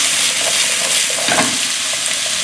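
Zucchini and squash stir-fry in a pan with a loud, close, continuous sizzle, briefly swelling as the vegetables are flipped and stirred.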